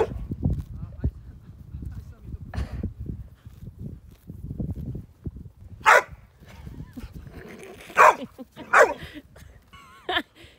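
A dog barks outdoors near horses: a few sharp, separate barks ring out in the second half, loud and close, after a stretch of low background sound and talk.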